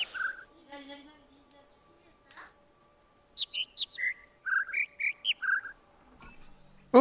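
Bird calls from the puzzle game The Witness: a sequence of clean, whistled chirps stepping up and down in pitch, arriving after a few soft sounds and a brief murmur, set against a quiet humming background.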